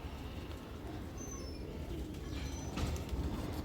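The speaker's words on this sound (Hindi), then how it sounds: "ये कबूतर बहुत आला" Ustad Asif Jamal's highflying pigeons give quiet cooing and a few faint chirps over a steady low background noise.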